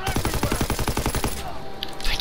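Rapid automatic gunfire from the World War II shooter Call of Duty: WW2, a loud, evenly spaced burst of about a dozen shots lasting just over a second before dropping to quiet game ambience.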